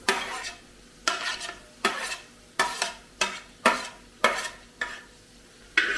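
Carrots and beans sautéing in oil in a pan for egg masala rice, with a spatula stirring in repeated scraping strokes roughly every half second over a soft, steady sizzle, close by with no talking.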